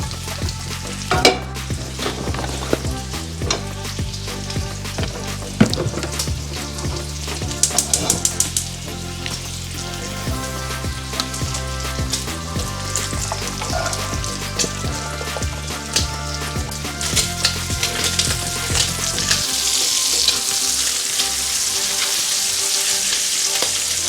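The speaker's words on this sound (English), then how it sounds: "All right, we'll start our onions now." Onions frying and sizzling in a pan after bacon, with steady stirring and occasional utensil clatter throughout, growing into a louder, hissing sizzle near the end.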